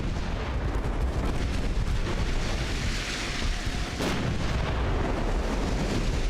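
Battleship main guns firing in the naval game Ultimate Admiral: Dreadnoughts, set in a 1902 US campaign: a dense, continuous roar of booming naval gunfire and rumbling blasts, with a sharper report standing out partway through.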